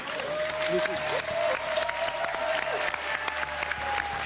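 Steady applause from a studio audience on the French TV game show "Mot de passe" fills the clip, with a host speaking French over the clapping.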